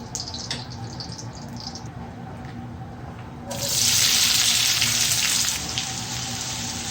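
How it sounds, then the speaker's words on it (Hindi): Desi ghee heats in an iron kadhai for dhaba-style bhindi. A low background hum gives way to a loud, steady sizzling hiss about halfway through, which stays up close and continuous to the end. "अब मैंने ऊपर बर्तन रख दिया, मेरे पास लोहे की कढ़ाई है, इसमें डालेंगे देसी घी।"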